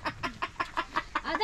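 Chicken clucking at Enchanted Cave in Bolinao, Pangasinan, a quick run of about eight rhythmic, close clucks over a second and a half with no talk.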